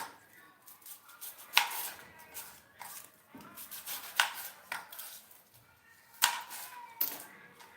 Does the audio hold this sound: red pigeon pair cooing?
no